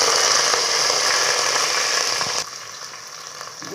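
Onions and curry leaves fry in hot oil with mustard seeds, giving a steady close sizzle that drops slightly in level partway through and continues without talk.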